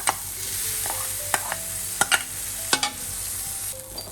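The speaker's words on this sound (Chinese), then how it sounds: "现在我们炒那个蓝色的，就是用那个蝶豆花浸过的糯米" Glutinous rice soaked in blue butterfly pea flower being dry stir-fried in a pan, heard as soft continuous scraping with a few sharp spatula clicks and a faint sizzle, and no talking.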